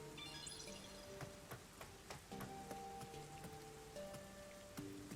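Rain falls steadily in the video game Rain Code, a faint patter of drops on surfaces under soft tonal background music.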